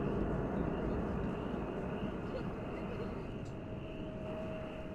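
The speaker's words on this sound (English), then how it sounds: "So DHL, operated by ABX Air." A DHL cargo plane operated by ABX Air arriving at DFW Airport, heard as a steady broadband engine roar that holds at a constant level, with a faint high tone near the end.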